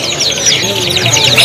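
Many canaries chirp and trill busily together in a bird shop, a dense overlapping chorus with faint human voices underneath.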